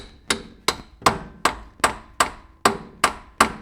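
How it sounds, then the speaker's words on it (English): A hammer strikes a bolt to drive out a pilot bushing, nine sharp metallic blows at a steady rhythm about two per second, each ringing briefly before the next, close and clear with no talk. "And now we're going to hammer the bolt in."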